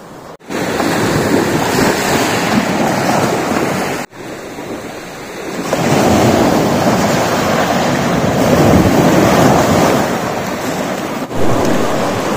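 Surf rolls in steadily at Kala Pathar beach on Havelock Island in the Andaman Islands, a loud, close, continuous wash of waves and wind-buffeted roar, swelling midway with a couple of sharp gusty breaks.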